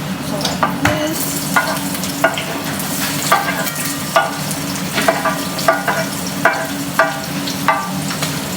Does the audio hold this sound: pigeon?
no